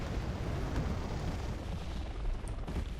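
Artillery fire and rockets in Wargame Red Dragon, a steady distant rumbling barrage of muffled explosions rolling on without pause, with no talk over it.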